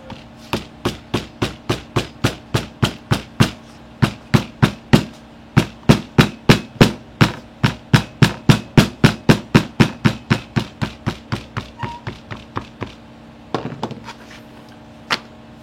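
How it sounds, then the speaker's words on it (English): Steady hammer blows flattening a workpiece before cementing: roughly thirty loud, evenly spaced metallic strikes close by, with a short pause near the middle and a few scattered, irregular taps at the end. "I'm going to take a hammer and just kind of flatten that out just a little bit."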